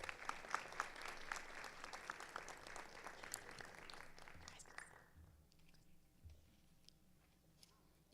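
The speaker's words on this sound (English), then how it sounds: "Please another round of applause for our Safety Patrol." Applause at a school board meeting for Safety Patrol students, brisk clapping from a seated audience for about five seconds, then fading to a quiet room with faint murmurs.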